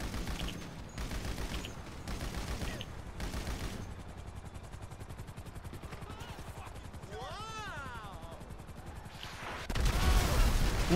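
Gunfire in Grand Theft Auto V during a casino rooftop drive-by, with rapid bursts of shots running through the clip, a rising whine partway through, and a louder burst of noise near the end.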